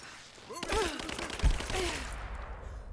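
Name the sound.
gunfire in a video game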